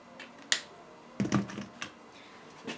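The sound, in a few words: pressing Control, Shift and Enter keys on computer keyboard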